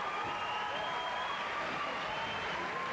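Spectators at an amateur boxing bout applaud and cheer after a round, a dense, continuous wash of clapping and crowd noise heard from within the hall.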